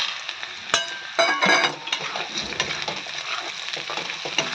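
Onions and peanuts fry in a pan, a loud, close sizzle with stirring scrapes and occasional clanks of a spatula against the pan throughout.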